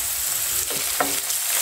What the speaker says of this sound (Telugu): వండేసాక ఆనియన్ ముక్కల్ని వేగనివ్వాలి